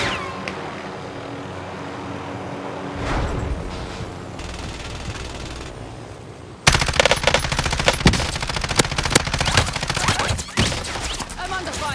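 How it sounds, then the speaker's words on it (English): Rapid automatic gunfire in a shooter video game: a steady backdrop of shots in the first half, then a loud, dense stretch of bursts and cracks from about the midpoint that continues to the end. "They're shooting at us."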